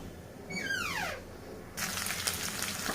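Mustard and other seasoning seeds crackle and sizzle in hot oil in a kadai on a stove while a drumstick, green pea and tomato curry is being made, a steady close frying hiss with a brief squeak early on.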